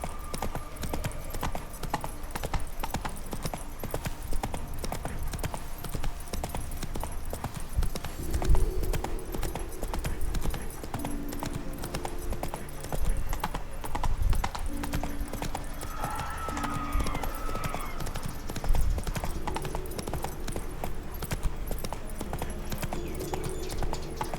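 Steady clip-clop of horse hooves galloping through The Witcher 3, a continuous rhythmic pounding with brief snorts, with no talking over it.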